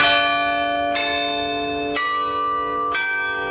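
Carillon bells in the Scottish Rite Cathedral tower ring out in three bright, sustained strikes about a second apart, each new peal layered over the long ringing decay of the last, with no voices.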